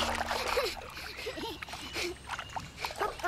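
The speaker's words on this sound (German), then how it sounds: "Alice gießt Wasser über mich." Water poured over a child in a Teletubbies cartoon, giving soft splashing and sloshing under lively high-pitched character voices.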